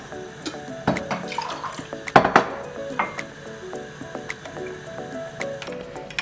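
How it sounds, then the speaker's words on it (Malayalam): Water poured from a tap into a container holding strawberry sarbath ingredients, with splashy gushes and clinks of the vessel, close and uneven, no talking. "അത് മുങ്ങിയിരിക്കാൻ പാകത്തിന് വെള്ളം ഒഴിച്ച് വെക്കണം"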